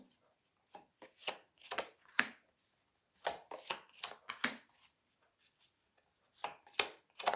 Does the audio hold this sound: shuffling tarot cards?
yes